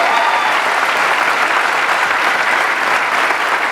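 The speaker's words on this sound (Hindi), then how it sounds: "इनके लिए एक जोरदार तालियां इन सबके लिए" A stage audience breaks into loud, sustained applause, a dense wash of clapping that holds steady for several seconds with no talking over it.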